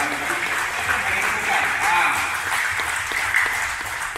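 An audience applauds Datuk Dr. Aksia Kumario at a Malaysian political gathering: dense, steady clapping fills the whole stretch, with voices faintly audible underneath.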